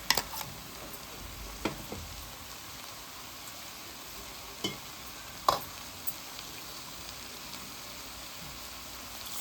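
A spoon stirs garlic and green chili paste into keema, soft wet sizzling under faint scattered clicks and taps of the spoon against the pot, with no talking.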